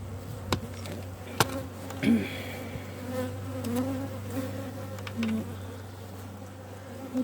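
Honeybees buzz around an open hive during an inspection, a close, continuous droning hum with individual bees passing near in short louder swells.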